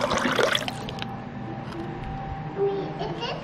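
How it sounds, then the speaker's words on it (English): Water pours into a bowl of broth at a family meal, a short bright splash and trickle near the start, then a quieter room with faint voices and soft clatter. "Here's some water in your broth."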